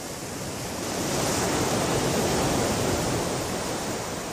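Continuous roar of ocean waves breaking on rocks below a small cliff on the Cotentin coast, a dense, loud wash of surf swelling slightly and holding steady, with no voices.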